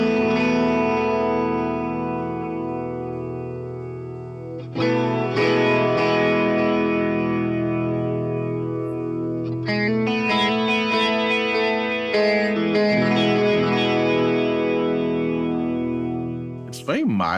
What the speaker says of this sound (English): If I turn this off and turn on the chorus instead